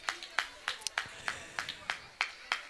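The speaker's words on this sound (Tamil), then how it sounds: "நல்ல கைத்தட்டல்." Audience clapping at a church children's programme, a run of sharp, evenly spaced claps at moderate distance, steady and fairly light, with no voices over it.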